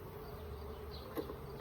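Honeybees buzzing at a hive, a steady low hum close by for under two seconds, with a faint puff near the end.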